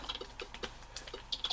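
A computer keyboard slipping on a lap gives a scatter of light plastic clicks and key rattles, irregular and close, with no voice over them.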